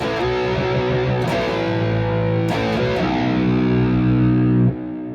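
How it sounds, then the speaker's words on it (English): A sustained, distorted electric guitar chord in a Petrucci-style tone rings out with washes of delay and reverb, one or two fresh strums partway through before the tone cuts back. "And I already got the delay on, so here's some reverb."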